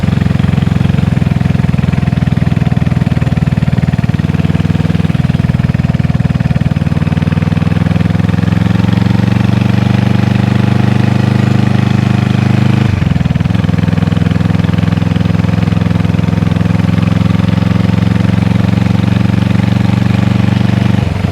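Honda CB360 motorcycle engine droning steadily while riding through a neighborhood, a loud continuous mid-pitched hum with slight shifts in revs and a brief dip midway, heard alone without talk.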